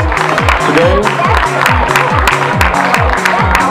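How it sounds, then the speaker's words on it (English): An audience applauding award winners at a students' invention competition prize ceremony, steady dense clapping throughout with a loud voice speaking over it and music-like tones underneath. "Please come on, round of applause."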